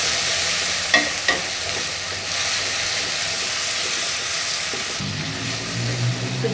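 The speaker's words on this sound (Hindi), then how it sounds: "इन सबको मैं इसमें डालने लगी हूँ इकट्ठा इस तरीके से। इसे हम मिक्स कर लेते हैं।" Cumin and coriander powder stirred into a frying masala for egg gravy, a steady loud sizzle with occasional spatula scrapes and knocks, close and free of talk.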